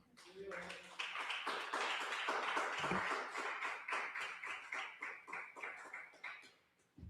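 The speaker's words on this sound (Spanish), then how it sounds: "Un aplauso al Señor." A church congregation claps together in a rapid rhythmic burst that fades toward the end, with voices mixed in beneath the applause.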